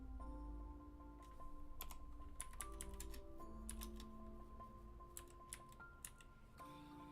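Clicky typing on a computer keyboard while working in an early version of OS/2, a steady run of close keystrokes in uneven bursts over a low hum and soft computer tones.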